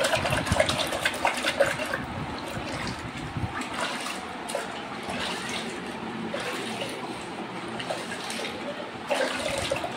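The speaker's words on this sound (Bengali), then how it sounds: "এবার জলটা একটু নাড়িয়ে নেবো যাতে লেবুর রসটা ভালো করে গুলে যায় জলের সাথে।" Water with lemon juice being stirred in a container, a steady close swirling and sloshing wash that runs without pause, louder at the start and near the end.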